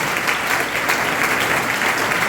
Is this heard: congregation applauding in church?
yes